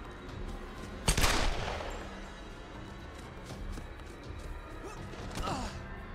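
Gunfire in the video game Tomb Raider (2013): one loud sharp shot bursts out near the start and rings down, with a fainter second report later against a steady ambient game background.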